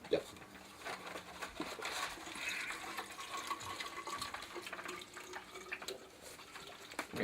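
Water is poured into a container up to the measuring line, a steady faint splashing and trickling that runs throughout beneath quiet voices talking.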